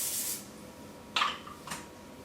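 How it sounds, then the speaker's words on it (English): A few short hissing bursts of non-stick cooking spray, one longer spray followed by two quick spritzes, coating a crock pot slow cooker close by in a quiet room. "coat the crock pot slow cooker with non-stick cooking spray"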